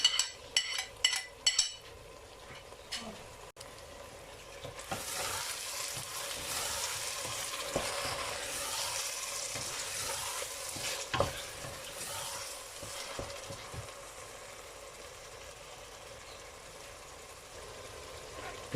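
Tomatoes and green chilies fry in a pan for beef kofta, a steady broadband sizzle that swells after a few clattering knocks and stirring scrapes, continuing loud and close with occasional utensil taps.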